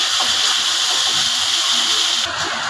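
Ginger paste sizzles in a pan with onion, garlic and spices, a loud, constant, close hiss that eases slightly just before the end.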